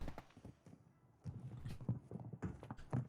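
Footsteps in the shooter game Warzone 2, a faint run of soft, uneven thuds from several steps, quiet and somewhat distant.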